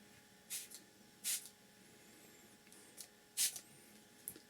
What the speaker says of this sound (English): spray your visor lens cleaner, give that a bit of a shake, and then you're ready just to spray it onto the visor